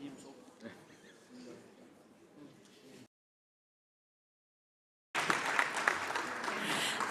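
Audience applause at a parliamentary panel on women's and youth participation: a voice speaks first, then a short silence, then a loud, dense burst of clapping fills the last two seconds.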